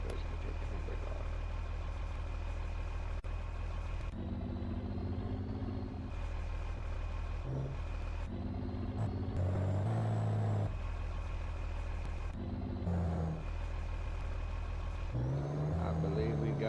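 An old car's engine idles and runs steadily near the microphone as the car begins to move, a constant low hum with occasional revving while someone talks over it.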